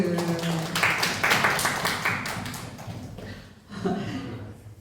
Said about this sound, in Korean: 남편인데. 박수.